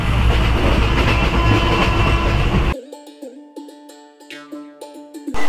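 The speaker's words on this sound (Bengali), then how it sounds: "আর এখন দারুণ এনজয় করছি ট্রেন রাইডটাকে।" A passenger train from Kolkata heading north past Rampurhat runs on the rails with a loud steady rumble for under three seconds, then cuts abruptly to a quiet stretch of soft tonal sounds and clicks.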